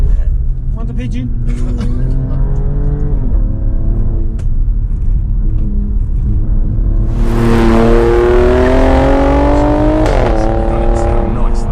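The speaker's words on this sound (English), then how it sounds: "Sounds lovely. It sounds like a Ferrari" Alfa Romeo Stelvio Quadrifoglio engine accelerating on the road, heard from the cabin: a steady rumble that swells into a rising, louder rev as the car pulls harder, with occupants chatting throughout.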